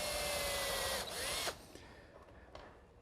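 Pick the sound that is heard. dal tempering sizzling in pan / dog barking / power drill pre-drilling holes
power drill pre-drilling holes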